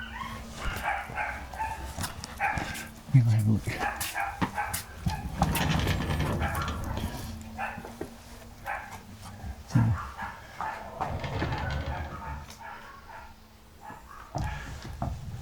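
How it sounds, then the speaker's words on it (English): A dog barks a few times at a distance, short sharp yaps scattered through a noisy room with people talking nearby. "Oh, doggy barking."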